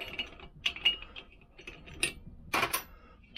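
Small metallic clicks, scrapes and ratcheting as a plug spanner works the spark plug out of a Vespa PX engine, quiet and close, in scattered short bursts.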